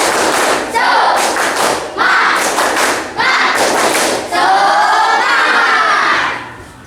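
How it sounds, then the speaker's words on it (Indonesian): Schoolchildren in an Indonesian classroom perform the rhythmic 'tepuk semangat' clapping chant, a loud group burst of claps and shouted syllables in several sharp pulses lasting a few seconds before fading out. "Tepuk semangat."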